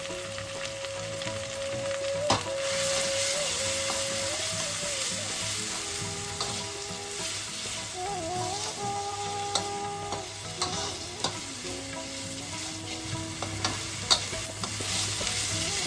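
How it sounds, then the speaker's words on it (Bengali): Spice paste with garlic, salt and turmeric fries in a pan for a spicy egg curry, a constant close sizzle broken by scraping stir strokes, with faint tonal background music running underneath. "এদিকে মশলাটা আমাদের খুব ভালোভাবে কষানো হয়ে গেছে।"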